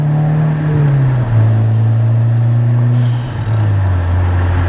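The exhaust of a 1999 VW Golf Mk3 Cabriolet rumbles loudly and close, its low drone dipping and rising as the engine is blipped a couple of times.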